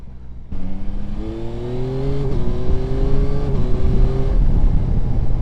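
Yamaha Tracer 9 GT+ motorcycle in sport mode accelerating hard, its engine note climbing steadily through the gears with a smooth shift midway, loud and close with wind rush, no talk over it.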